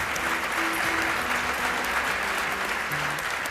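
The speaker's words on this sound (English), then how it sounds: "another big round of applause for our son Zach and his good friend Harrison" Audience at a concert claps in a sustained, even wash of applause throughout, fairly close and dense, with a few faint voices mixed in.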